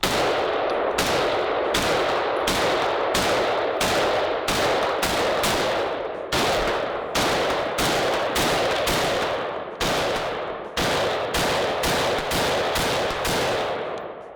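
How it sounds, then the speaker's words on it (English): Rifle gunfire at a shooting range, including a 5.56 rifle: loud, close, rapid shots in quick strings with short gaps, each crack ringing out with a metallic echo tail. "I really like how this gun shoots."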